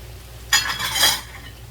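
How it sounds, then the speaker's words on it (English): Tandoori chicken marinade with tandoori masala, chili powder and garam masala being stirred in a bowl, one short close swish of spoon through the thick paste, with no speech. "Give this a stir."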